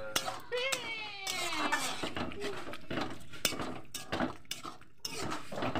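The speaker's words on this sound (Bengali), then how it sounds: "এবার আমি ভালো করে নেড়ে নেব।" A spoon stirs a rice flour mixture in a metal pot, scraping and clinking against the sides in irregular bursts, with a voice talking over it and faint background chatter.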